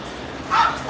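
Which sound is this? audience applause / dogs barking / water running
dogs barking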